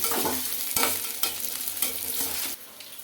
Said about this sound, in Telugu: ఇలా పెద్దగా కట్ చేసుకున్న ఆనియన్స్ ఇక్కడైతే దొరికితే వేసుకోండి ఇవి కూడా కొంచెం బాగా ఫ్రై చేసుకోవాలి